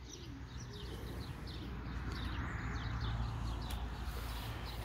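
Çakmaklı pigeon cooing at dawn in Antalya, a few soft repeated coos over a steady low background hum, fairly faint and with no talking.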